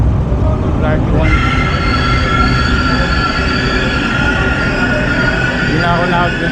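A Manila LRT Line 1 light rail train runs loudly from inside, its wheels squealing in sustained high tones over a constant heavy rumble, with brief clicks of the rails.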